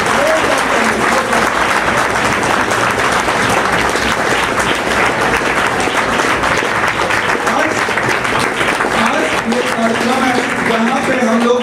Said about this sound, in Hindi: आप लोग जहां भी हैं जोरदार तालियों से अपना वेलकम करें